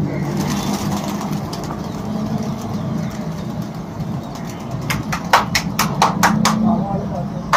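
Pigeons cooing at a pigeon club, soft low coos running under steady talk and background noise, with a burst of sharp clicks and flutters near the end.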